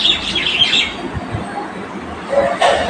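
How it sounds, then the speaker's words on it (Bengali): Birds chirping and calling around a pond with fish at midday, a cluster of bright tweets early on and again near the end over a soft outdoor hiss; no speech. "দুপুরবেলাতে কি সুন্দর পাখির ডাক শুনতে পাচ্ছ"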